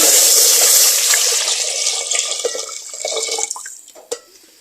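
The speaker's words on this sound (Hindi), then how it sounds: "हम इसमें दूध शामिल करेंगे।" Cold milk poured from a liter supply into a pot on the stove for vanilla custard, a steady liquid stream at first that thins into trickles and a last drip, close and alone.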